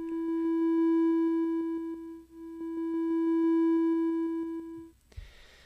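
PICO-8 chiptune notes hold a steady pure tone whose faded note starts swell and dip in a soft bouncing pulse, then a short noisy burst ends it; no voices.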